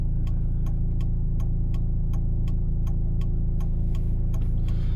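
Right turn indicator in a car on a driving-exam route, ticking in an even steady rhythm of about a dozen clicks over a constant low engine and road hum inside the cabin.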